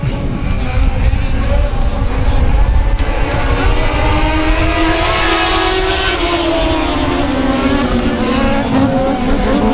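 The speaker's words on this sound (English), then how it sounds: "Looks like the 12 car of Dylan Coyne breaking away from the pack" Pack of race cars thundering down the back stretch at South Texas Speedway, a loud unbroken engine roar that swells and shifts pitch as cars pass by.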